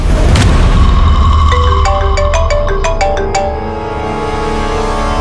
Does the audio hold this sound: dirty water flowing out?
no